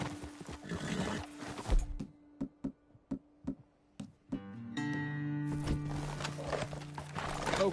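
Hooves clip-clop in a slow, evenly spaced series of distinct thuds, bracketed by busier game noise and a sustained tonal drone, in the video game Red Dead Redemption 2.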